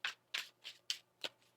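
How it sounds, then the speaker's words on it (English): Tarot cards being shuffled by hand give five short, crisp riffling bursts, soft and close, spaced about every third of a second. "One more shuffle."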